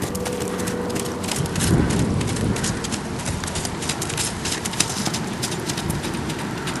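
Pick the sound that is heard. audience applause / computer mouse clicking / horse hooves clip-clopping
horse hooves clip-clopping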